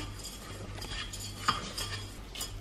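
A spoon stirring in a cooking pot as something browns before milk is added. Light scraping and clinking come close and fairly quiet over a low background hum, with one sharper knock midway.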